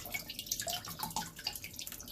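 Vinegar is poured into a cooking pot of corned beef and cabbage, a close, trickling splash of liquid with fluttering drips running steadily throughout.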